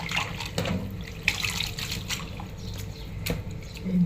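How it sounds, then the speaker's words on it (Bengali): Leafy greens washed in water with a little oil, with sloshing, trickling water and soft splashes in a sink or basin, plus occasional clatter. "তেল দিয়ে একটু ধুলে শাক সুন্দর ধোয়া হয়"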